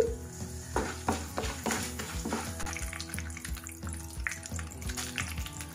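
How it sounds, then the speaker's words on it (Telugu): Oil sizzles softly in a pan as urad dal and chana dal fry for tempering, while a spoon scrapes and stirs in repeated knocks, with faint clatter of utensils. "1 స్పూన్ మినపప్పు, ఒక 2 స్పూన్ల శనగపప్పు వేసుకొని పోపు బాగా వేగనివ్వాలి"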